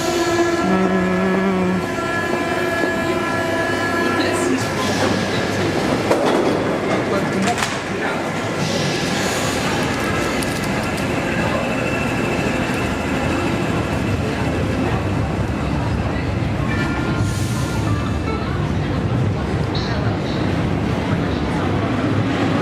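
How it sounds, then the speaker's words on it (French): An old Paris metro train on line 10 runs with a whining, pitch-shifting motor hum over rattling wheels and a steady rumble, heard from the front car, with voices talking underneath. "le magnifique son de moteur qu'on peut entendre"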